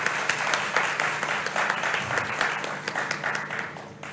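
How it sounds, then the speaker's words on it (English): Audience at a guest lecture applauding the first speaker, a dense, steady round of clapping from many hands that carries on for several seconds at moderate loudness. "Give a big applause to our first speaker, Dr. Kenji Saito,"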